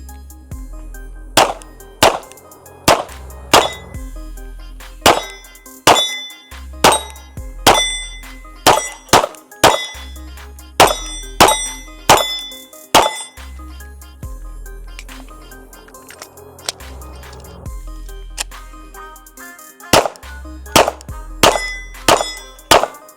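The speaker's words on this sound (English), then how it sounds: "I'm just going to shoot these on the move." Gunshots are fired on the move at steel targets, giving sharp metallic clangs in irregular quick strings and pairs with brief pauses, loud and near.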